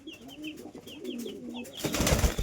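Fancy pigeons in a coop coo repeatedly in soft, rising calls across the first part, then a louder burst of rustling and wing flutter fills the end.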